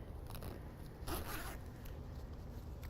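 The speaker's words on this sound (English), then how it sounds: "Now I'm going to zip it up just one more time just to make sure that it looks good." A zipper slides closed along a fabric pouch, a soft quiet rasp with one brief louder pull in the middle, heard alone and close.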